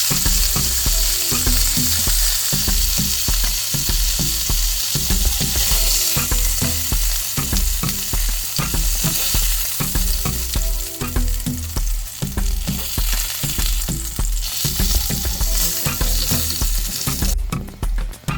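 Codfish fries in a pot with a dense, steady sizzle and crackle that runs loud and continuous, close up, with occasional stirring clatter and no talking.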